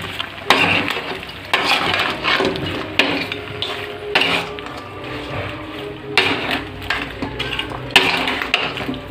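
Pork fry is stirred in a pan, with a spoon scraping and knocking against the metal in irregular strokes over a constant loud sizzle. The stirring comes in bursts with short pauses between them, and no one speaks.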